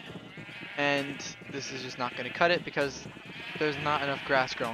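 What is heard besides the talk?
sheep bleating in a video game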